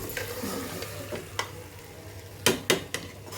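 A spoon stirs aloo matar gajar curry of potatoes, peas and carrots in a pan, giving a few soft scrapes and then two louder, close clatters over a low, steady simmer.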